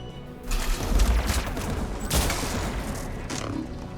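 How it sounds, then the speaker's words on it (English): Anti-aircraft guns in Mass Effect 3 pound away in heavy, rumbling volleys, loud and sustained, with a few stronger bursts standing out over the barrage. "AA guns ahead of us."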